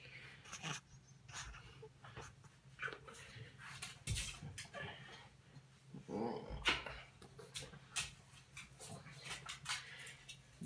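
A dog growls and gives a few soft barks at moderate distance, quiet and intermittent over room noise with faint clinking, heard behind a Minecraft session.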